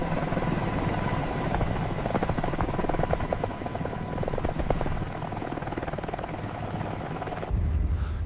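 An army helicopter roars steadily and loudly close by, its rotor and engine drone filling the whole stretch before cutting to a deeper rumble near the end.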